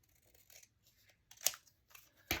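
Scissors snip through a paper die cut in a few short, quiet cuts, with soft paper rustling between them and a sharper snip at the end, no voices.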